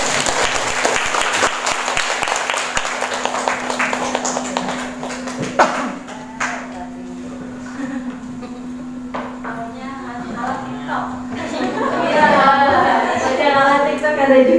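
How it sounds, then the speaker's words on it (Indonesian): Audience applause at a COVID-19 hand-hygiene and hand sanitizer session, loud clapping that fades midway, then quieter clatter and voices talking, with a further burst of noise toward the end. "Coba tepuk tangan dulu."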